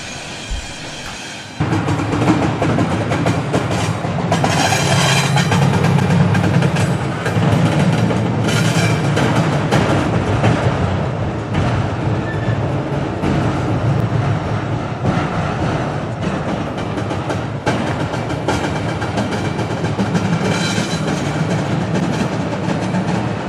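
An intermodal freight train rumbles past loudly and continuously near Rickenbacker, with clattering wheels and metallic rattling rolling on for over twenty seconds.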